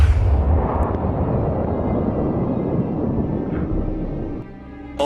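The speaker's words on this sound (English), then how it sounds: "was that gunshot enough to bring the boar down?" A single loud gunshot boom during a wild boar hunt, followed by a long rumbling decay that fades over several seconds, with no voices.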